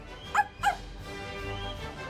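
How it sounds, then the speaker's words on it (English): Two short, fairly loud barks from a cartoon dog spaced about a quarter second apart, aimed at a troupe of dancing poodles on a stage, with a soft background hum afterward. "She runs up and barks at the dancing poodles."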